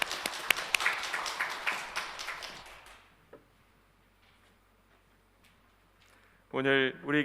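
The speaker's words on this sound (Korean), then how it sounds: "우리를 구원하신 주님께 박수하겠습니다." Congregation clapping during a Sunday church worship service, a burst of hand claps for about three seconds that fades into quiet room tone, followed by a voice speaking.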